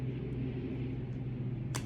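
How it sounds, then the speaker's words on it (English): A steady low droning rumble, like a helicopter passing overhead, holds throughout with a brief hiss near the end. "Sorry about that loud noise. It's a helicopter."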